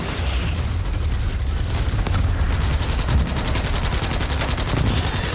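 Dense, continuous gunfire and booming blasts from the sci-fi shooter Starship Troopers Extermination, rapid automatic bursts layered into a loud, unbroken barrage with no pauses.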